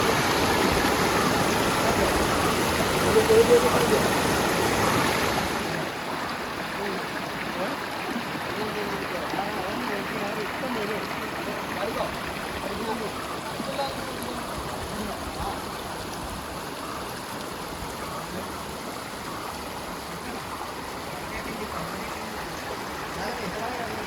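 Steady rushing water of the Kallar river, recorded mid-river, flows continuously throughout, louder and fuller in the first few seconds before settling into a constant broadband wash.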